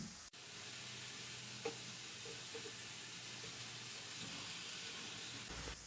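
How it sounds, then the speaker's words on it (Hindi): Sliced onions fry in hot oil for a korma, a soft, steady sizzle and faint bubbling hiss with a few light stirring clinks, fairly quiet and with no voices. "थोड़ा सा हम तकरीबन 1 मिनट और फ्राई करेंगे।"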